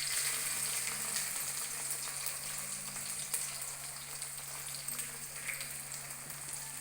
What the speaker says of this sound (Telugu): పచ్చిమిర్చి వేగినవి ఆనియన్స్ వేసుకుందాం.